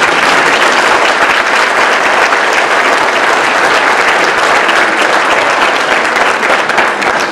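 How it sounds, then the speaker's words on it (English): An audience at a 2015 Berkeley County sheriff's candidate forum breaks into loud, sustained applause that runs the whole stretch without letup. "All right, round of applause."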